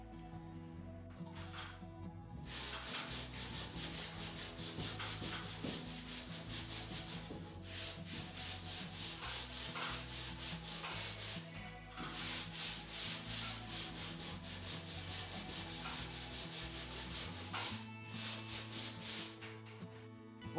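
Steady sanding of a plastered wall and ceiling, a continuous abrasive rubbing in long repeated strokes with brief pauses between passes, close and fairly even in loudness throughout.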